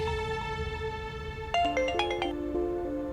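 A mobile phone ringtone plays as a steady melodic electronic tune, loud and close, shifting into a faster run of notes partway through, with no talking over it.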